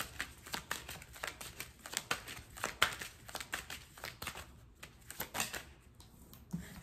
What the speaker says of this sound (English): I was shuffling the cards upside down